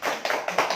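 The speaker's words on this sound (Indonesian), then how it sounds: "Kasih tepuk tangan dulu." A short burst of classroom applause from children, several quick claps in an uneven rhythm, close and fairly loud.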